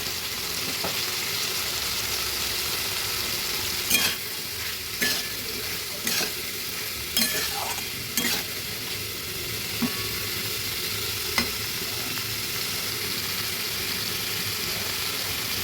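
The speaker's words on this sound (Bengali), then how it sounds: "কিছুক্ষণ ভেজে নেব। দিয়েছি স্বাদ মতো নুন।" Kabuli chickpeas and paneer frying with salt in a pan, a continuous close sizzle with occasional sharp scrapes and clinks of a spatula stirring against the pan.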